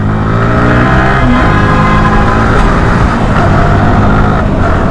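A motorcycle fitted with a full-system titanium exhaust drones loud and close in continuous revving, with a dense, raspy engine roar that holds steady throughout.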